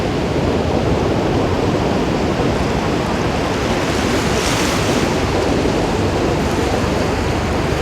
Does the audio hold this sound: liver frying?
no